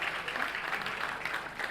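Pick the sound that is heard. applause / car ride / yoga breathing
applause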